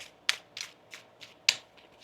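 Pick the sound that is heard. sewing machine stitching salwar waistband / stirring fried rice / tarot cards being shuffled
tarot cards being shuffled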